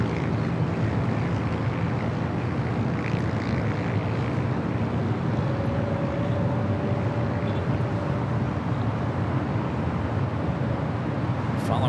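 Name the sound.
aircraft at LAX airport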